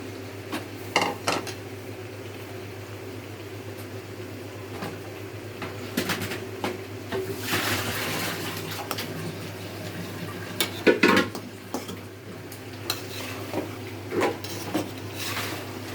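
A spoon clatters and scrapes against a cooking pot while tomato is stirred in, giving repeated irregular metallic knocks over a steady low kitchen hum.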